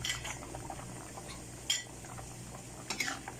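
String beans are tipped into a cooking pot of chicken and softened potatoes, giving a few close metallic clinks of a utensil against the pot over a soft background bubbling, without speech.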